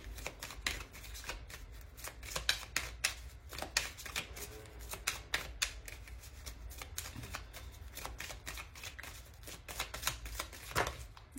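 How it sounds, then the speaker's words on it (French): A deck of Normand oracle cards being shuffled by hand, a steady run of quick papery riffles and flicks close up, continuing for several seconds with no talk. "Je vais prendre un oracle normand pour regarder un peu plus ce qu'on nous dit. Alors, je le mélange."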